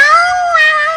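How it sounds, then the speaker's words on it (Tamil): A kitten in a Ninja Hattori cartoon lets out a single clear, high meow lasting about a second, loud and close, with nothing else heard around it. "பூனைக்குட்டி."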